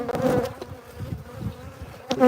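Bees buzzing around two hives: a close, wavering hum with individual bees droning past the microphone, swelling loudest at the start and again near the end, with no voices.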